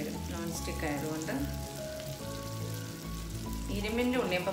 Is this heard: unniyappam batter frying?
yes